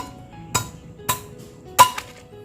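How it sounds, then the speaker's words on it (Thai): Three sharp, separate knocks sound close by over quiet background as pipes are cut and knocked apart, spaced roughly half a second to a second apart. "แม่กำลังตัดแยกท่ออยู่ท่อต่อกับเนื้อตรงออกจากกันนะครับ"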